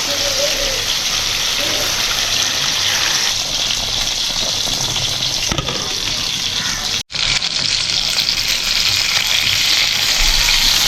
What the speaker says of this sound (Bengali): এখন একটু গরম জল দিয়ে দিব